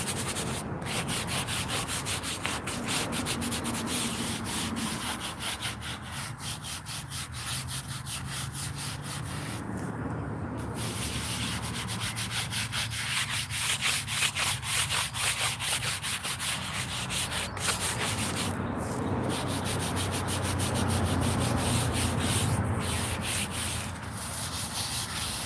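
Steady abrasive scrubbing of a stone cemetery headstone with D2 cleaner, a brush rubbed back and forth continuously in close, rhythmic strokes, with a few brief pauses and no voices.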